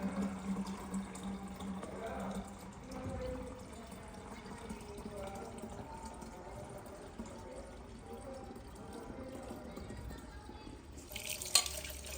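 Fresh buffalo milk pours steadily into a metal container, a continuous liquid splashing and dripping texture running for several seconds, with a brief clatter near the end.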